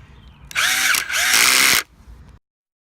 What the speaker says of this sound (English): this is the drill that the battery keeps dying